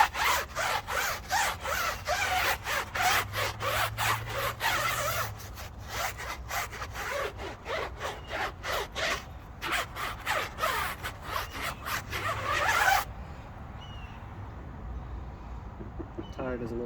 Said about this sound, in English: Scrub the tire off.